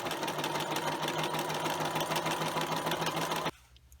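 A sewing machine runs a zigzag stitch along the long sides of a fabric treat bag, a steady, fast mechanical whir that holds for about three and a half seconds, then stops abruptly.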